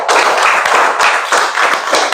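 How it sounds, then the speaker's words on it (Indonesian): Brisk, rhythmic clapping from a classroom of students in a lesson on Islamic teachings, close and loud, with hands striking in a steady repeating pulse throughout. "tepuk tangan buat Riz."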